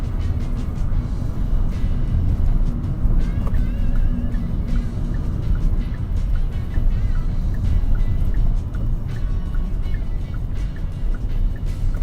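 A Kia Sonet engine drones steadily from inside the car as it drives in daytime traffic, a continuous low hum with faint road noise and no talk.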